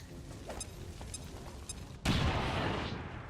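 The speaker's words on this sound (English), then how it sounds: "So I throw the grenade." A grenade blast in XCOM 2: War of the Chosen, a single loud explosion that bursts in after a quieter stretch of game ambience and rolls away over the next second.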